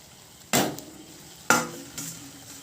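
Fried potatoes tipped into cooked-down spices in a pan give two sharp, close sizzling bursts, each fading quickly, with a fainter third stir a moment later and no talk.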